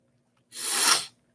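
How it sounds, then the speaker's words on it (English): A single short, breathy sneeze bursts out up close, a hissing rush that fades quickly into silence. "It wouldn't be a show if I didn't have to sneeze."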